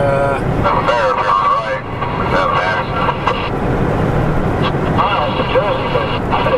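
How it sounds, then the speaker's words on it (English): CB radio chatter crackles in a vehicle heading west on a highway toward the Pennsylvania Turnpike, voices coming over the speaker nearly nonstop above a constant loud road and engine drone. "you can hear the CB going"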